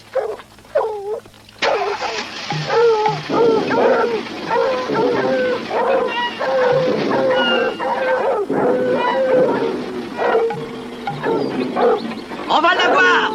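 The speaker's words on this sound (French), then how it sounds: "On a les chiens." A pack of dogs barks and howls loudly and continuously, a dense chorus of overlapping yelps and wails that fills the whole stretch after a brief quieter opening.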